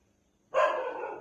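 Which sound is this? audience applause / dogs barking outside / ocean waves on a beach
dogs barking outside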